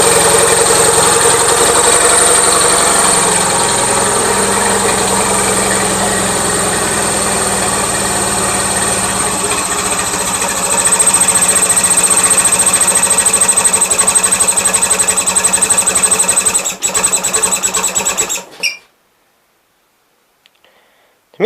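An Onan engine on a Gravely 450, running rich, idles close by with a steady buzzing, fluttering drone that rises slightly partway through, then stumbles and cuts off into silence near the end.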